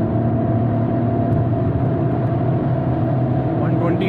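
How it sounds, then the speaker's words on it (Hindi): Fiat Grande Punto Multijet diesel hatchback accelerating in fourth gear on an open road at highway speed, with a steady loud engine drone and road rumble heard from inside the cabin and no break. "so here we go fourth gear की एक्सेलरेशन यहाँ पर आप सबके लिए"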